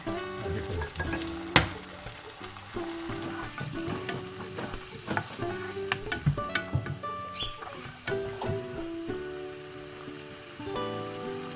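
Risotto rice with wine stirs and fries in a pan for an artichoke risotto: sizzling with irregular scraping and clattering of the utensil, close and fairly quiet, with no one talking.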